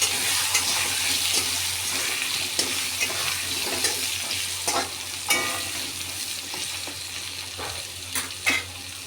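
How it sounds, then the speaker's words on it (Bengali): Potatoes fry in a pan with a little salt and turmeric for a cabbage and peanut dish, giving a steady close sizzle broken by repeated scraping clicks of stirring. "দিয়ে এটাকে একটু ভালো করে ভেজে নেব"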